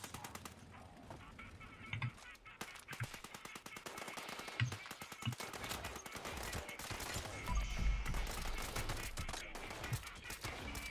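Bursts of automatic gunfire aimed at squirrels in Fallout 76, sharp rattling volleys repeating across the clip at moderate loudness, with a heavier low rumble late on and faint background game sound.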